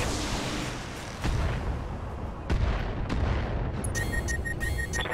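Heavy weapons fire from a combat mech in a video game: a few booming shots over a continuous rumbling background, each one a sharp thud, with electronic beeping tones near the end.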